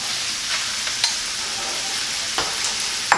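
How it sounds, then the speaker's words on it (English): Onions frying in a pan for a Philly cheesesteak, giving a steady broad sizzle with a few brief clinks and scrapes of stirring, heard alone with no talk. "In goes our onions"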